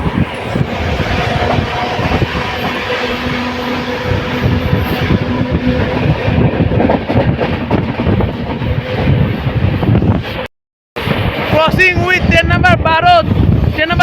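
Padatik Express train pulling into a station in North Bengal, a steady loud rumble of wheels and rail noise throughout, with a brief dropout near the end followed by squealing brake tones as it slows.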